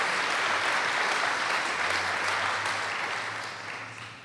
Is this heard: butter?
no